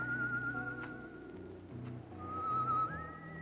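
Whistling from a scene of the anime Ashita no Joe: a thin sustained tone that holds and then slides upward, sitting over a low, steady music bed with no talking.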